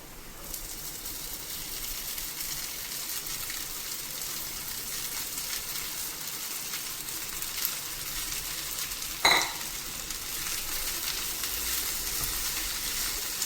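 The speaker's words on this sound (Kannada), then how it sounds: "ಈಗ ಈರುಳ್ಳಿ ಈ ಹದಕ್ಕೆ ಬರುವಾಗ ನಾವು ಕಟ್ ಮಾಡಿಟ್ಕೊಂಡಂಥ ಪತ್ರೊಡೆಯನ್ನು ಇದಕ್ಕೆ ಸೇರಿಸಿಕೊಳ್ಳುವ" Chopped pathrode and onions fry in a pan for a Coastal Karnataka pathrode upkari, a steady soft sizzle with faint stirring scrapes and one brief clatter partway through, no talking.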